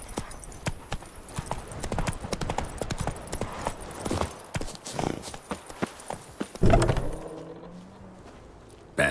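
Roach the horse galloping in The Witcher III, a fast, steady clip-clop of hooves close up for most of the run, ending in a louder jumble of hoof and tack noise before dropping away.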